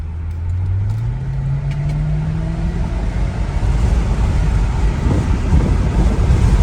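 A Mercedes SL500 on coilover suspension drives along a road, its engine note rising and dropping through a gear shift before settling into a steady, loud rush of road and wind noise.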